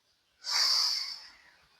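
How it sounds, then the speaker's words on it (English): One long, breathy exhale through the mouth during a gentle stretching routine, close and fairly loud, rising quickly and then slowly fading away. "Shoulders up to your ears, longer exhale through the mouth"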